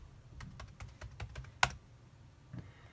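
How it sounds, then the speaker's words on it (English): A password is typed on a computer keyboard in a quiet room: a quick run of about eight light key clicks, then a sharper louder press like an enter key, and one faint tap after. "the password is right here, Alpine. So I'm going to type that in."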